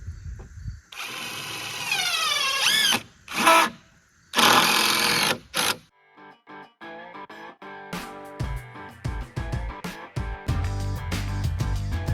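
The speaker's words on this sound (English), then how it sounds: "I'm going to start putting screws in." A power drill drives screws into a wooden deer blind platform, with two loud whining bursts that rev up and wind down, followed by quieter intermittent mechanical sounds.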